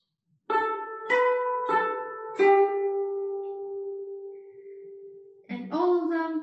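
Guzheng strings plucked with only the index finger and thumb: four bright notes struck in a quick sequence, the last one ringing out long and slowly fading, then a fresh pair of plucks, close and clear with no talking.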